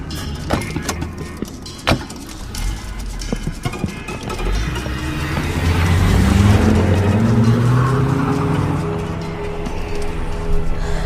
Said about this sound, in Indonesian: aku pun langsung pergi ke parkiran dan menyalakan mobilku